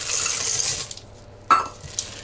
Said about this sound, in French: je rajoute les pépites de chocolat